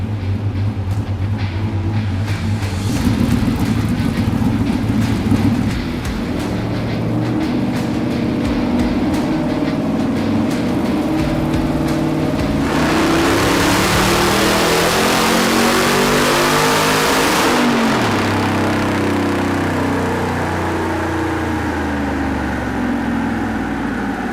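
The engine of a Factory Five '35 truck build revs hard in a long pull up to 6600 rpm, a loud sustained drone that climbs steadily in pitch, drops sharply at the top and then settles back to a lower idle.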